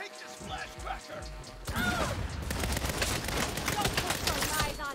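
A grenade blast in the Saints Row game during a boss fight erupts partway through, opening a sustained loud burst of crashing, rumbling noise that continues to the end, with game sounds and voices throughout.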